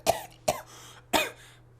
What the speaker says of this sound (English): Why can't I clear my throat?